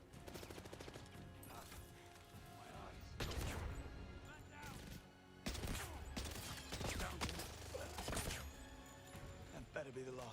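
Dense gunfire in the spy shooter 007 First Light, a busy clash of shots, crashes and impacts layered over game music, loud and continuous with heavier bursts partway through.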